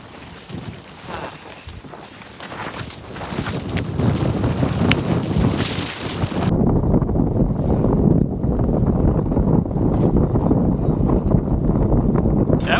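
Wind gusts hit a heeling sailboat crossing the San Francisco Bay slot toward Sausalito: a steady, loud, rushing roar that deepens and grows heavier halfway through, with no voices.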